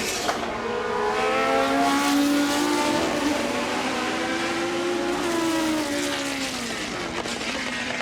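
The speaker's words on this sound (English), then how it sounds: "Wonderful soundtrack from the wailing 3-litre Cobra DFV in Andrew Beaumont's Lotus 76" Lotus 76 Grand Prix car with a wailing 3-litre Cosworth DFV engine at a timed hill shootout, a loud high-revving scream rising and falling through gear changes as it passes nearby.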